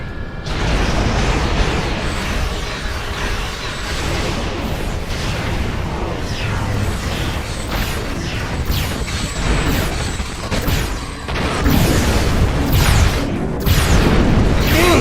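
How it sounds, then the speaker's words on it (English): Star Trek Online starship firing weapons at the crystalline web nodes, a dense, continuous barrage of booming energy blasts and explosions, loud and close, with rapid overlapping bursts throughout. "Target and fire at the nodes connecting the webs."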